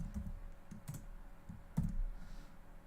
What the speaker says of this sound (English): I'm fumbling at the keyboard